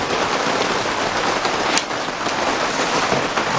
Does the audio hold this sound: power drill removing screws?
no